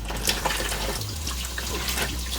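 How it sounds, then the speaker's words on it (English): Tap water runs steadily into a kitchen sink while hands are rinsed, a close, continuous splashing hiss with small shifts in the flow and no talking. "Rinse my hands off."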